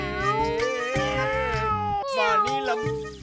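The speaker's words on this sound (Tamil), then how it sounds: "பூனை சத்தம் கேக்குதே" A cat meows repeatedly in a household setting, several drawn-out, tonal cries in close succession, loud and near, with a melodic background underneath.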